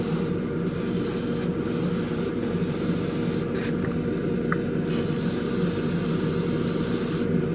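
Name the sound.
spraying a first coat of paint on a model car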